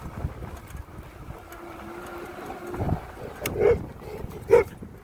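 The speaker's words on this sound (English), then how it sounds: "Oh yeah, forgot about these dogs." Dogs along a flooded rural road bark a few times, two short barks standing out near the end over steady wind noise and a low background rumble.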